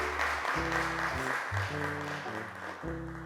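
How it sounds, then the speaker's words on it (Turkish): Audience applause welcoming a young girl to the microphone on a children's show, a steady wash of clapping running beneath loud, stepping musical tones. "Eylül'ü alkışlarla mikrofona davet ediyorum."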